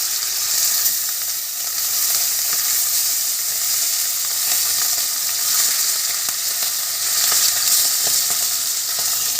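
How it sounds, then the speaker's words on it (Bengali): Gujrali fish fried with garlic in hot oil in a wok, making a loud, steady, close-up sizzle with dense crackling that continues throughout, with no talking. "কড়াইয়ে তেল গরম হয়ে গেছে মাছগুলোকে এবার আমি তেলের পরে ছাড়ব"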